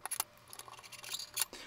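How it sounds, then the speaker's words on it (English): Zip ties are snipped off during a network card fan mount, giving several quick, close, faint clicks and snaps spread over a second or two. "And then you cut off the zip ties."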